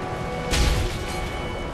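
A frag grenade detonates in Modern Warfare 3 during a hatch-breach firefight, a single low boom swelling about a third of the way in and rumbling briefly before settling back into steady game background noise.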